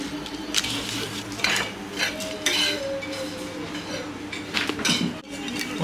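Whole spices, white and black pepper with bay leaf, dry-roast in a pan while a metal spoon scrapes and clinks against it repeatedly, with a light crackle underneath.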